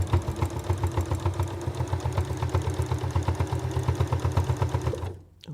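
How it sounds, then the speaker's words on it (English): A sewing machine stitches steadily through the fabric of old oven gloves, its rapid, even needle rhythm loud and close before the motor stops abruptly at the end. "when your motor goes again, it's coming out and it's getting the momentum up to get back down in that fabric with ease"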